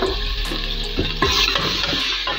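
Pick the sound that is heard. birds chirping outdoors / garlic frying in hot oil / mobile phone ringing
garlic frying in hot oil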